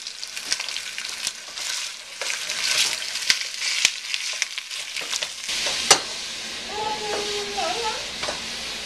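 Stew meat browning in olive oil in a pot over medium-high heat, a loud continuous sizzle and crackle with scattered sharp pops, under faint background sounds.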